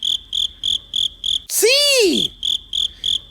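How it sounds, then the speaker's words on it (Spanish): A cricket chirps in short, evenly spaced bursts, a bright pulsing trill that repeats steadily from start to end in a children's animal-sound guessing game, broken once by a brief spoken word in the middle. "Es un grillo"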